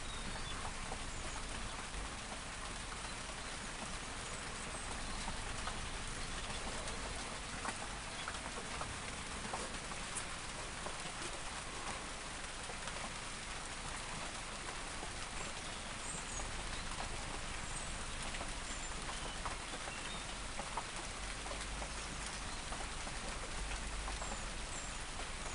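Steady rain patters down throughout, a dense, even hiss of drops with no voices.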